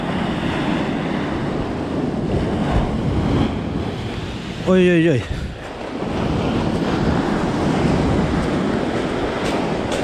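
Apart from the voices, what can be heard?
rough sea waves breaking on beach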